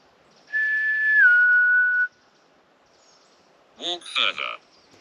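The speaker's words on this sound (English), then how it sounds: "If I make a whistle, can you whistle back?" A person whistles one sustained note that dips slightly in pitch in the woods, then after a pause a voice speaks briefly.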